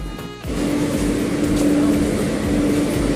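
A Delhi Metro train at New Delhi station rumbles steadily nearby with a continuous low hum and a faint high whine, after a brief burst of noise at the start.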